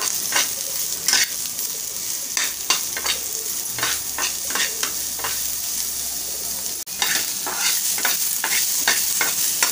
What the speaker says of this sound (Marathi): यामध्ये आपण कांदा, लसूण आणि अद्रक टाकूया। परतून घेऊया।